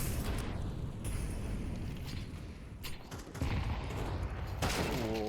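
Grenade blast in Counter-Strike on the Ancient map, a dense burst of explosive rumble and crackle that swells again near the end amid ongoing gunfire and game noise.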